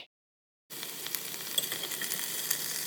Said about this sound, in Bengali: এবার একই তেলে ব্রোকলিটাও ভেজে নিব দুই থেকে তিন মিনিট